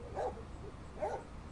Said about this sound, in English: That's my dog Tuxedo